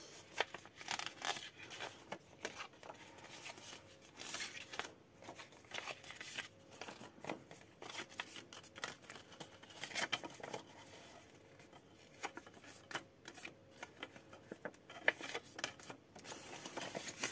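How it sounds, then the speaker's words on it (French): Scrapbooking card paper is creased and folded by hand, with soft crinkling, rubbing and pressing sounds coming in short, irregular bursts, quiet and close, with no talking. "on va venir marquer nos plis"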